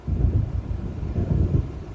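Low rolling thunder from an approaching storm in the video game Alan Wake rumbles steadily and fairly faint, a deep continuous grumble with slight swells and no voices.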